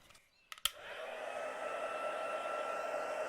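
After a few sharp clicks, a hair dryer starts and runs with a steady, close whirring roar as it dries watercolor paint on paper.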